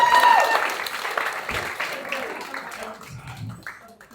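A comedy club audience applauds and cheers as stand-up comedian Dustin Searcy is brought on stage, the clapping loud at first and thinning out over a few seconds, with a voice talking over it.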